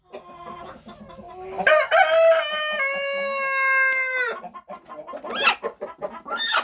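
Chickens being handled while their beaks are held and claws trimmed give close, agitated clucks and squawks, including one long drawn-out distress call in the middle.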